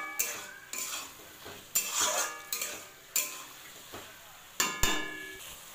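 Red spinach with potatoes stir-fried over high gas heat, a metal spatula striking and scraping the pan in spaced strokes over light sizzling, with some brief talk.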